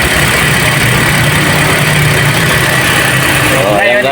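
Toyota Vios dual VVT-i engine idling loudly up close while warming up after radiator damage and a coolant refill, a steady mechanical drone with the pitch shifting near the end.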